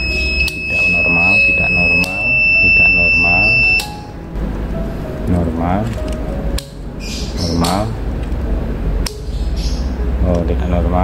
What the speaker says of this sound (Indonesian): ini bunyi, padahal ini enggak terkoneksi tapi dia bunyi